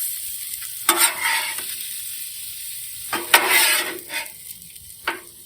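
Pizza heating on a Blackstone griddle gives a soft, steady sizzle with a few sharper hiss and scrape bursts, close and alone with no talk.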